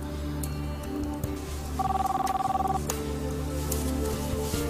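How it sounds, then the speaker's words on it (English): A telephone rings once in a drama scene, a steady, pulsing electronic warble lasting about a second, set against a constant background hum. "Come on, answer the damn phone, Luis."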